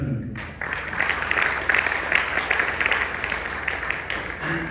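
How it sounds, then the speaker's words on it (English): Audience applause welcoming a guest speaker at a Republic Day event, a dense sustained wash of clapping that starts after a brief pause and holds steady throughout, with a faint voice near the end. "please give a big round of applause to Sugant Khanna"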